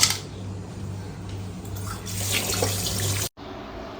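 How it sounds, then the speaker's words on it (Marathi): Baby toys washed under running tap water with a liquid cleanser: a steady, close hiss of flowing water lasting throughout, with a brief break near the end and no talking. "आता तुम्हाला फक्त हे पाण्यामध्ये वॉश करून घ्यायचं आहे"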